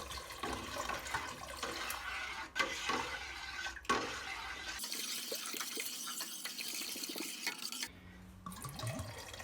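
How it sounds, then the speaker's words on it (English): Two liters of pure alcohol poured bottle by bottle into a pot of honey water while it is stirred, giving a steady close splashing and gurgling liquid stream with brief pauses between pours. "Add alcohol while stirring the pot or all die."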